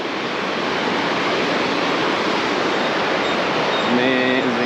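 Steady rushing water fills the whole stretch, a broad continuous roar of a mountain river flowing nearby on the Annapurna Base Camp trail, with a faint tonal hum near the end.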